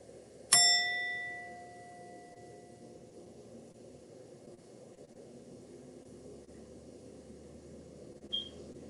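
A single bell strike rings out clearly and decays slowly over a few seconds in a quiet room, followed later by a faint short tone.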